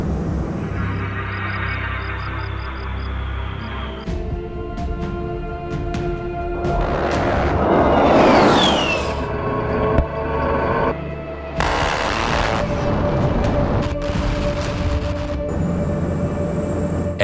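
An A-10 Warthog attack jet fires its cannon in a short, harsh burst midway through, heard as a loud ripping roar amid surrounding jet noise and booms.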